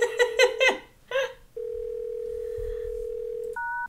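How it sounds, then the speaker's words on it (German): Steady telephone dial tone in the point-and-click adventure game Thimbleweed Park, holding for about two seconds after some brief game chatter and ending with a short higher two-tone beep. "So, ich kann jetzt das Telefon benutzen."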